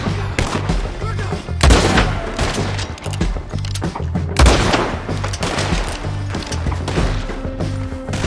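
Gunshots crack in a video game, a few heavy, sharp reports over a busy, loud background of low hum and clatter.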